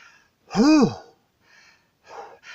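A person imitates a dog's panting with a loud voiced huffing breath, followed by a few fainter, shorter breathy exhalations.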